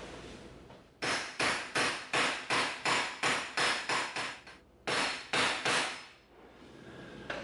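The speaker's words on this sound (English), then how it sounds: "we're gonna take our hammer and we're gonna tap this so that" Close hammer taps on EVA foam over a cement floor, a steady run of evenly spaced strikes, a short pause, then a few more blows.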